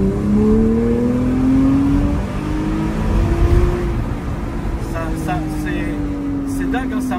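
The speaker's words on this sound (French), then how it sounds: "Le son Porsche, il est inégalé et tu sais que tu es là-dedans" A naturally aspirated Porsche engine revs while driving between red lights, its pitch sweeping up and settling into a steady, rising drone that stays loud and close throughout.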